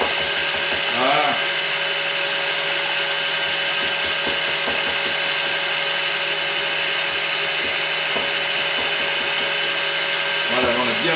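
Egg whites being whipped with an electric mixer for homemade chocolate mousse, a steady loud whirring drone with a constant high whine throughout, no talking heard.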